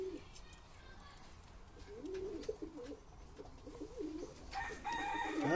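Madras pigeons give low, wavering coos, faint at first and then louder and busier near the end, while someone speaks over the birds.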